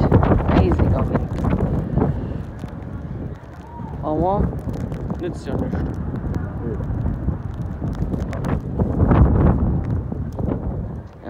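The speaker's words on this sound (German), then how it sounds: "Und sehr windig. Und eisig. Eisiger Wind." Icy wind buffeting the microphone during a walk in Eisenach in early April, a loud continuous roar with gusts, while a person speaks briefly over it.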